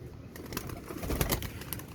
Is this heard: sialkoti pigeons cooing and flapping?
yes